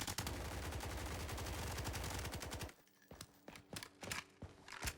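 Rapid automatic gunfire from the G86 rifle in the game Blackhawk Rescue Mission 5, a dense unbroken burst followed by a few separate single shots after a short pause.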